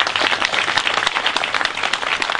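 A crowd claps continuously at an event, a thick, fairly loud patter of many hands that holds steady without pause or speech.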